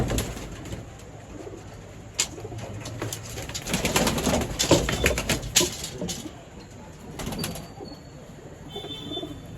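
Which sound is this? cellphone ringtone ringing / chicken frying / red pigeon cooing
red pigeon cooing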